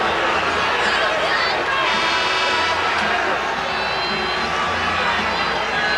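A basketball arena crowd during an NBA game, Miami Heat at San Antonio Spurs, reacts to a replay of a hard foul with a loud, sustained roar of voices and cheering that fills the whole stretch without letup.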